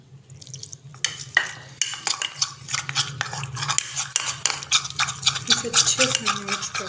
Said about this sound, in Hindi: अच्छे से मिक्स कर लें, अच्छा सा पेस्ट बना लेना।